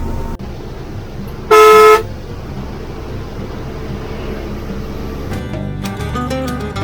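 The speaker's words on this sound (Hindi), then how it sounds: "हॉर्न बजाते हैं, धीरे धीरे ये वेव करते हैं हॉर्न बजा बजा के" A loud, sustained horn blast of about half a second sounds from a passing truck on a roadside highway in the Rann of Kutch region, over continuous traffic rumble and wind, with a second vehicle's engine and horn tones rising near the end.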